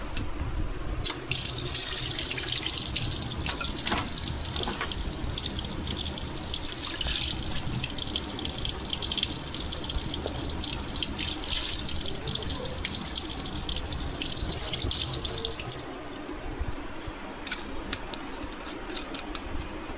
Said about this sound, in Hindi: इसे मैं बॉटल को क्लीन करके रखूँगी।